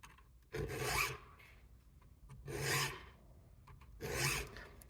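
A sharp file rasps across a chainsaw chain clamped in a vise, three slow, even strokes with short quiet pauses between them, close and fairly soft.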